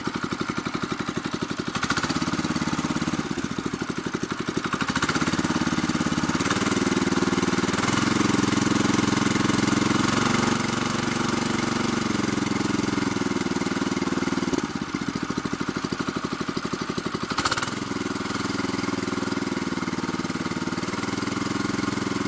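A Kentavr MB-2070B walk-behind tractor engine runs close and loud in a steady putter, its pitch rising and falling a few times as the throttle is changed. Brief low speech breaks in near the start.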